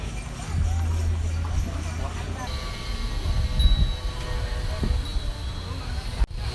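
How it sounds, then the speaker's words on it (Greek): Horse hooves clip-clop from a horse-drawn cart on a street in Bali, Indonesia, a steady rhythm close by amid outdoor ambience and traffic noise, with a voice talking over it. "η χρήση που κάνουν στα άλογα και στα κάρα δεν είναι μόνο για να μεταφέρουν τον κόσμο"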